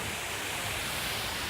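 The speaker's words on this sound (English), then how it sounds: "you can hear the waterfall in the fountain right behind me" A waterfall splashes into a resort fountain, a steady close wash of falling water with a bright hiss and no talking.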